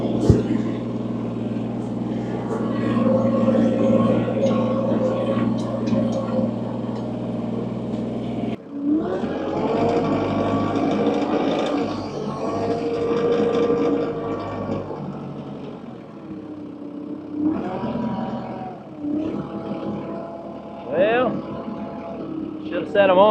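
A TYM 4820 tractor engine runs with a steady low rumble, then cuts out and restarts with revving, while someone talks intermittently over it.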